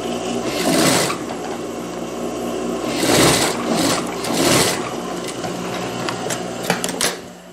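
Sewing machine stitching the side seam of a child's dress, loud close whirring in several short runs with slight pauses between them, and a few mechanical clicks as it slows at the end.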